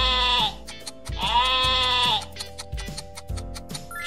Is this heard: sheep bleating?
yes